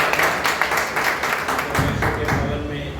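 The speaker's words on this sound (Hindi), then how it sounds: "आपके लिए भी तालियां" A church congregation applauds at a sermon. The clapping is a thick, steady patter with a voice speaking over it, and it thins and fades toward the end.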